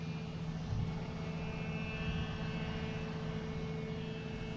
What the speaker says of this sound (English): Emirates is directly overhead right now, heading to JFK from, it's actually heading from Milan